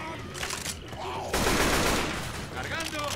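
Gunfire from the video game Left 4 Dead 2 in a PC versus match, a dense burst of shots building to a loud sustained barrage, with a voice faintly underneath.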